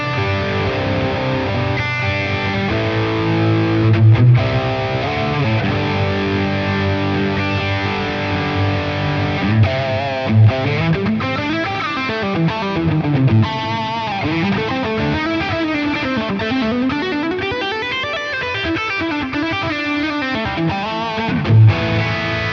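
A heavily distorted electric guitar plays sustained chords and bending lead lines through a high-gain Friedman BE-100 amp model on a Line 6 Helix, thick and saturated, with no talking.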